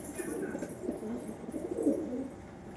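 A large white Indian fantail pigeon coos nearby, low burbling calls rising and falling, with no talking.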